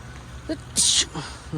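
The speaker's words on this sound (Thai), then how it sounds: "ขออนุญาตจามนะครับ ขออนุญาตจามสักที" A man sneezes once, a short sharp burst of breathy noise, with bits of nearby speech before and after it.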